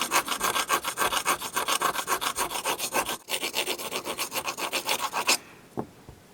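A sharpening stone rubs back and forth over the hammer of a Smith & Wesson third-generation pistol, smoothing rough burrs in a fast, even rasping rhythm of close strokes that stops abruptly near the end.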